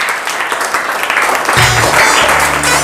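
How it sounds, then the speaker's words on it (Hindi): A class of young schoolchildren clapping together in a room, a lively scattered patter of small hands that swells slightly toward the end, with a voice briefly audible under it. "तालियां बजा ले"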